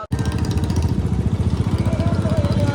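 A motorcycle engine runs close by at a crowded death-anniversary gathering, a loud, rapid pulsing putter that stays strong for the whole stretch after a sharp click at the start.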